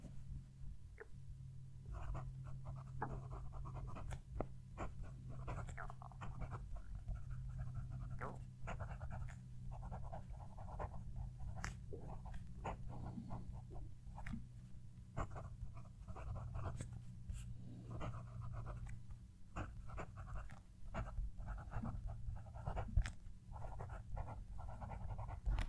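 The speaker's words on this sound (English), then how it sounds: "hopefully you can hear the pen write" Fountain pen with a stub nib writing on paper, close up: a continuous stream of soft scratchy strokes and small taps at an irregular rhythm over a low background hum, faint overall.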